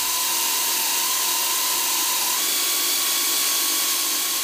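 An air ratchet drives a hole saw through a live gas service pipe, giving a steady, loud hiss and whir with a faint constant whine that runs unbroken for the whole stretch.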